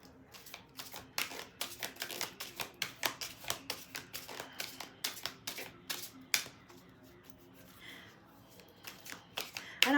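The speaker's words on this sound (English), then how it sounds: "let's just give it another shuffle" Tarot cards are shuffled close up in a quiet room, giving a run of quick riffling snaps and flutters in irregular bursts over most of the stretch, with a short pause near the end.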